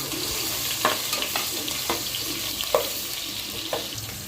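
Onions frying in a pan for mushroom rice, a steady sizzle with a few clinks of a spoon against the pan, close and alone with no talk.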